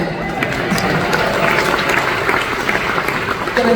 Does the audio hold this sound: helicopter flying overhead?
no